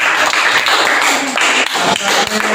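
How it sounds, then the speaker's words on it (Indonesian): Schoolchildren in a math classroom clap for a classmate, a loud, close burst of uneven hand claps with some voices mixed in. "Jadi kita tepukkan untuk Mario dulu."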